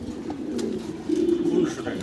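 Pouter pigeons on a farm give a low, burbling coo that rises in the second half of a short stretch, close and moderately loud, with faint human voices mixed in.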